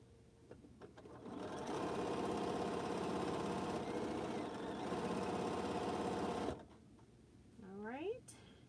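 A sewing machine stitches quilt H blocks in a steady, continuous mechanical whir for several seconds. It stops abruptly, followed by a brief rising squeak and some soft handling noise.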